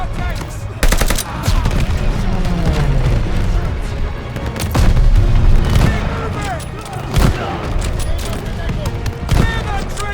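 Dense Call of Duty: Vanguard trench battle with rapid machine-gun bursts, sharp rifle shots and heavy explosion thumps, loud and continuous, with soldiers shouting orders over the din.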